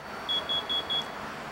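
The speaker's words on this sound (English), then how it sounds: "The sound you're hearing right now is the sound of the carbon monoxide detector warning us about how dangerous it is" Carbon monoxide detector alarm sounding four short, evenly spaced high-pitched beeps, clear and fairly near, inside a smoke-filled aquarium test setting, with no talking.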